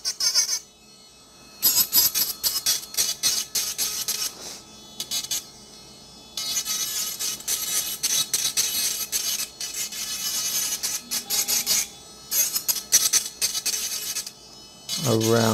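A nail drill bit files a nail in bursts of high, raspy whirring, stopping and starting repeatedly at close range, with brief quiet gaps between passes and no talking.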